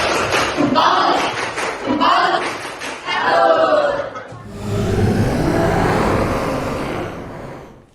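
An audience in a classroom gives a rhythmic salute clap, tepuk salut, with clustered patterned claps followed by a broader wash of applause and murmuring voices.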